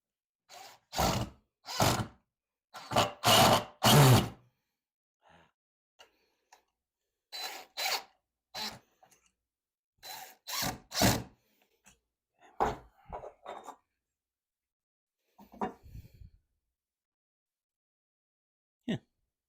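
A power driver sinks screws into wood while building an outdoor play kitchen, with several short loud bursts of whirring in quick groups followed by sparser, briefer ones and quiet gaps in between.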